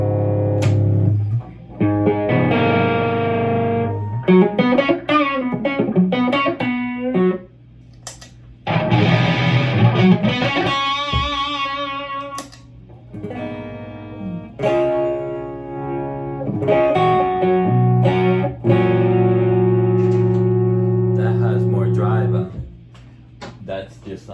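An electric guitar plays bluesy notes and chords through a Splawn Street Rod amp head in its clean first mode, with ringing phrases separated by short pauses, heard close.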